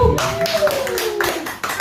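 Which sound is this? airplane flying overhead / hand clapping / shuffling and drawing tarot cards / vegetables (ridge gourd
hand clapping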